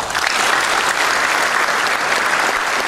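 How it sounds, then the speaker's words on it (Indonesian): A debate audience at a presidential candidates' convention in Bogor breaks into steady, dense applause that fills the room for the whole stretch, loud and continuous with no pauses. "Boleh tepuk tangan."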